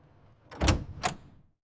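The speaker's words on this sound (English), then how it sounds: "Cargo doors are closed and sealed." Cargo doors of a delivery truck swing shut at a factory loading dock, two solid thuds about a third of a second apart, close and fairly loud, followed by a short fading rumble and then quiet.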